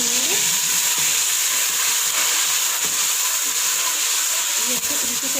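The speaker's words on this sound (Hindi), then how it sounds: "तो थोड़ा सा भूनेंगे।" Ginger-garlic paste frying in a pan for chana pulao, giving a loud, continuous, close-up sizzle with a broad hiss and occasional stirring scrapes.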